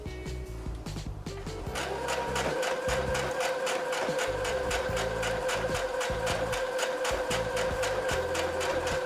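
A sewing machine runs fast and steady while hemming a pair of jeans, its rapid needle chatter continuous and close after a brief start, with no talking.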